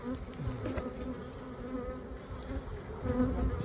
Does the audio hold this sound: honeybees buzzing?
yes